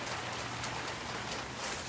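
Rain falls steadily on a driveway beside an open van with equipment cases, a dense even hiss with no talking, constant and moderately soft.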